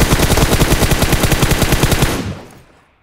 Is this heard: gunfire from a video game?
yes